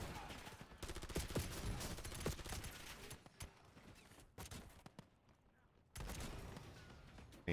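Automated turret gunfire in a video game mowing down a horde, a sustained rapid rattle of shots running through most of the stretch with a brief lull before resuming loudly.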